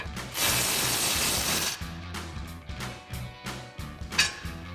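A hand ratchet fitted with a 15mm socket loosens brake caliper bolts on a 2005-2014 Mustang GT. A fast continuous run of clicks is followed by several short, sharp ratcheting strokes, close and alone.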